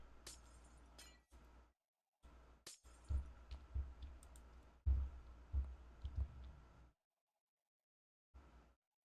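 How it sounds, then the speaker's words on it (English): Glass blocks shattering in a Minecraft-style block game on a multiplayer server, a rapid series of crisp breaking clicks and crunches in bursts, close and fairly loud, ending in near silence. "Getting rid of this glass."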